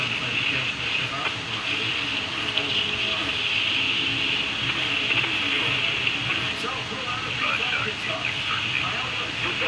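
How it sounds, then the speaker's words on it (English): A CSX mixed freight train rolls through Folkston, Georgia, a dense steady roar of wheels and rumbling cars holding at constant loudness for the whole stretch, with voices faintly under it. "Mixed freight, booking it through"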